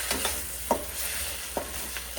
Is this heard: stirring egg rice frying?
yes